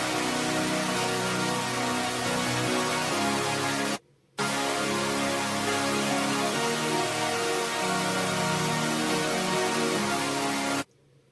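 Dense layered synth saw stacks blended with ambient drones play as a thick, full-range wall of sustained chords, broken by one brief silent gap before continuing and stopping abruptly.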